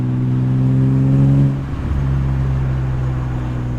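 BMW M3 with an axle-back exhaust accelerating hard, a loud, deep, steady engine drone that shifts pitch about halfway through as it changes gear, heard close from inside the car with no talking.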